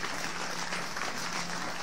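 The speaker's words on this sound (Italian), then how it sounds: "Facciamo un bel applauso" Audience applause at an outdoor live show, a steady, even patter of clapping that holds constant throughout, with no voices over it.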